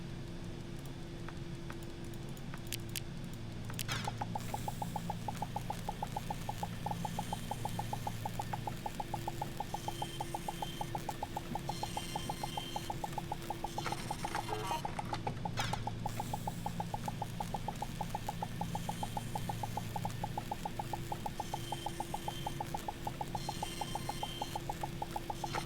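Rapid, regular mechanical chattering like a dot matrix printer as materials are smelted in the video game Starbound, a steady buzzy ticking that starts after a short pause and runs continuously, with a brief interruption midway.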